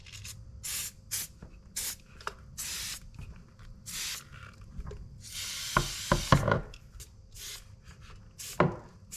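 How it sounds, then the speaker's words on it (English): Liquid Wrench silicone spray hisses in a series of short and longer bursts over the parts of a Yamaha jet boat being winterized, close and fairly quiet, with a few clunks and handling noises between sprays. "Gonna spray everything down with some liquid wrench silicone spray."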